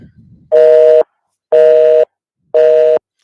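A telephone line gives a steady two-tone signal in three evenly spaced beeps, each about half a second long and separated by silence. The tone is loud and close, and no talk is heard over it.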